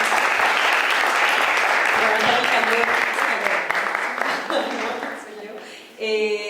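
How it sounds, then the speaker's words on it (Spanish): Audience applause fills a seminar hall at an academic panel session, a dense, loud wash of clapping that holds steady for several seconds, then thins and fades as a speaker's voice comes back in. "Denle un aplauso."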